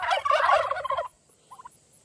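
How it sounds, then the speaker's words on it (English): A burst of loud turkey gobbling, rapid and warbling, followed by a pause and a softer, brief gobble-like call. "Hey turkeys!"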